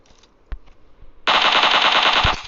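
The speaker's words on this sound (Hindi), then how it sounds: "कमाल का पीक शॉट।" Automatic rifle fire in PUBG Mobile, a couple of isolated shots followed by a loud, rapid sustained burst of gunfire lasting over a second, close and with no talking.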